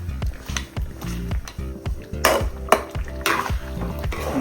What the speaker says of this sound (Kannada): ಈಗ ಇದು ಮಸಾಲೆಯಲ್ಲಿ ಒಳ್ಳೆ ಫ್ರೈ ಆಗಬೇಕು.